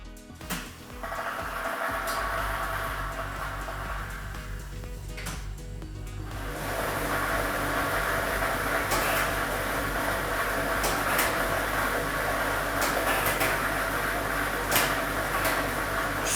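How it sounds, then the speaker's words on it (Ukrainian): A state lottery ball-draw machine, a Loto Maksyma drum loaded with ball set number 2, is switched on. A broad, steady whirring roar builds and holds, with balls tumbling continuously and no voices over it. "І ми вмикаємо лототрон."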